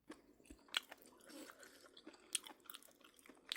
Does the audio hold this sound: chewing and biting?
yes